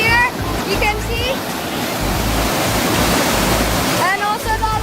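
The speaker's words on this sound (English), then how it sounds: "So this is the waterfall. It's really loud." A loud waterfall roars steadily throughout, its broadband rush of falling water filling the scene from close by, with faint voices audible beneath the constant torrent.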